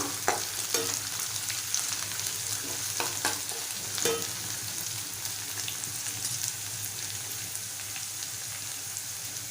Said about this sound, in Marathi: आता आपण कढीपत्ता घेतलाय तो घालूया परतवूया